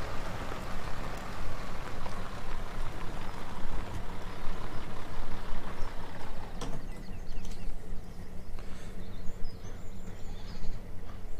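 Truck engine in a farming video game set in rural Limousin, a steady low rumble running throughout with a brief sharper hiss near the middle, loud and close, no talk.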